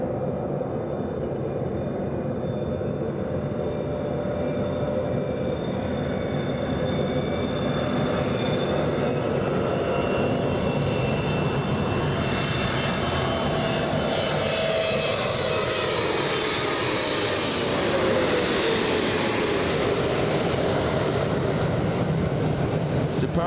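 Airliner powered by GE90 engines at Los Angeles International Airport, a loud sustained jet roar that swells and shifts in pitch as the aircraft passes close by, filling the whole stretch.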